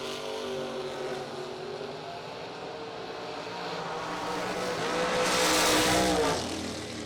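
A Ford Mustang II drag car makes a loud, continuous engine roar at a drag race, rising to a peak near the end of the pass as it blasts past, with no voices over it.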